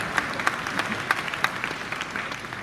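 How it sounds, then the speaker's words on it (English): An audience at a fan convention Q&A claps steadily, a dense wash of hands with a few sharper individual claps standing out near the front. "Yeah, clap."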